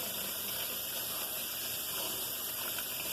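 Pinto beans from a pack rinsed under running tap water, a steady, even rush of water that continues close and alone throughout.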